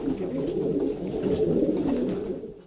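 Pet doves coo close by in a continuous, soft, low murmur that overlaps and rises and falls gently before fading out at the end.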